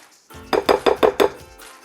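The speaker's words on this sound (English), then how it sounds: "I'm just going to do a little last minute stirring here" Five quick rhythmic clinks of a utensil scraping and knocking against a dish while stirring Frito corn salad, evenly spaced and fairly close, with no talking.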